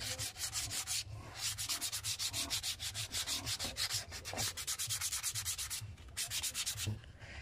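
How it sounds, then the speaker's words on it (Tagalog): Hand sanding with sandpaper, a fast, even back-and-forth rasp of repeated rubbing strokes that runs continuously and close up, pausing only briefly, with no voices. "So liliyahin na lang natin."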